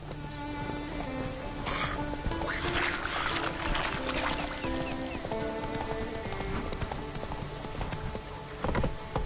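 Hooves of Roach, a horse in The Witcher 3, clopping steadily in a quick walking rhythm, layered over busy game ambience with a faint whinny.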